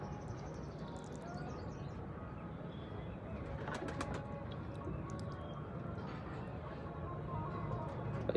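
Pigeons coo softly and intermittently in an indoor spot where rescued birds, one of them ailing, are being given water, with steady background noise and occasional brief chirps throughout.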